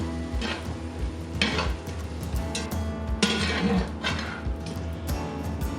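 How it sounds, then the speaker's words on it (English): A spoon stirs shredded cheddar cheese into hot tomatoes in a pan. Repeated scraping strokes sound close over a constant sizzle. "I'm gonna add half a cup of shredded cheddar cheese and stir that in until the cheese is completely melted"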